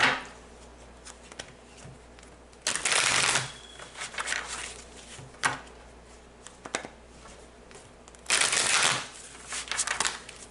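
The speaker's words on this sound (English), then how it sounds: "let's go ahead and shuffle" Tarot cards being shuffled up close in two long riffling bursts, separated by softer taps, slides and handling noises.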